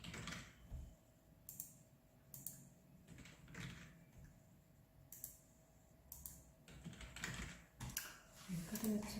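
Data is typed by hand on a computer keyboard in an office setting, with bursts of quick, light key clicks separated by short pauses, close and fairly quiet, and a faint voice now and then in the background.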